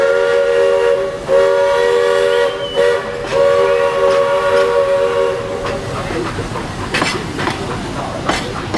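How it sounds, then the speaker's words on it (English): A Walt Disney World Railroad steam train sounds its whistle in several long blasts, loud and close, then chuffs and rumbles past with clanking rhythm as the whistle fades. "It's a steam train."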